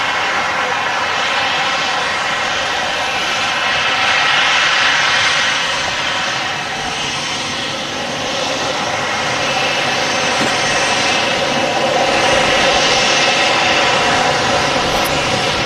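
A KLM jet airliner taxis out at Manchester Airport bound for Schiphol, its engines giving a loud, steady whine and roar that swells slightly in the middle and holds throughout, with no voices.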